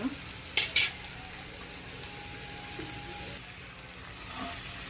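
Masala bhindi, okra with salt and kasuri methi, cooks on a low flame in a pan, giving a steady soft sizzling hiss with a couple of brief clinks near the start and no voices.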